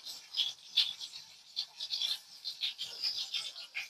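A spoon stirs chopped onions in a pan for mango chutney, making a quiet, steady run of soft scraping and rustling strokes close by.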